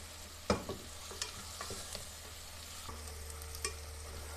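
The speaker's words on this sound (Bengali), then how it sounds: "পেঁয়াজগুলো দিয়ে নাড়তে থাকবো, হালকা লাল লাল করব পেঁয়াজগুলো।" Sliced onions frying in a pan are stirred with a utensil, giving a soft continuous sizzle broken by a few sharp scraping knocks, with no talking.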